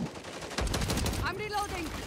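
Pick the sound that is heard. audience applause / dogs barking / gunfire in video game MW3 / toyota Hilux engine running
gunfire in video game MW3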